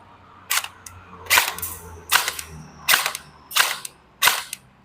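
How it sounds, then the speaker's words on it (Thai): An E&C 302 M4 CQB electric airsoft gun with a metal body fires six sharp, loud single shots at an even pace of roughly one shot every 0.8 seconds, each crack followed by a brief mechanical tail, with no speech. "ยิงได้หมดนะยิงได้ปกตินะครับ ตัวปืนไม่ได้มีปัญหานะครับ"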